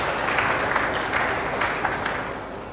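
Audience applause at the opening session of the FOSSGIS 2016 conference, a steady dense clapping from a large crowd filling the whole stretch at even strength.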